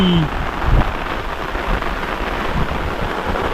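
Monsoon rain pours down beside a river during fishing, making a loud, steady broadband hiss that runs the whole time with little variation.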